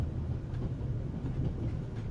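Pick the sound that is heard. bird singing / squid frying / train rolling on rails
train rolling on rails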